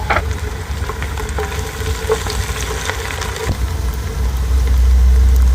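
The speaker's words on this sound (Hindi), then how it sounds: "अब हम इसमें थोड़ी सी प्याज डाल देंगे," Onions frying in a pan for Singaporean rice, a steady close sizzle with light clatter and a low hum underneath, growing slightly louder toward the end.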